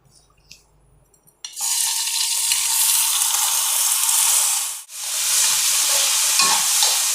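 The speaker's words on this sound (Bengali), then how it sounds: "এখন চালটা ঘি দিয়ে দিয়েছি কড়াইতে, আমি একটু ভেজে নিচ্ছি চালটা।" Rice fries in ghee in a kadai while making payesh. After a quiet start, a loud, continuous sizzle bursts in, dips briefly, then carries on steadily, with no talking.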